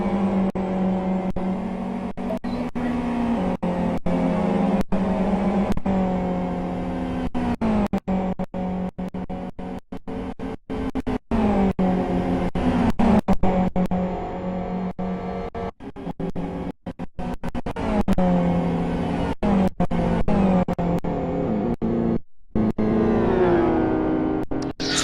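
Race car engines, including a Ferrari 458, roar in a GT World Series race: a loud, sustained engine drone with rising and falling pitch as the cars accelerate and shift, continuous for the whole stretch.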